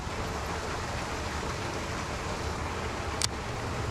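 Flowing stream water at a fishing spot, a soft, steady wash of noise with a short sharp splash or clatter near the end.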